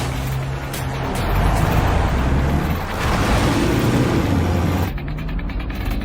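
A car drives along following a taxi, its engine and road noise a steady rumble with some rattling and clicking mechanical noises, loud and close, rising slightly midway before easing.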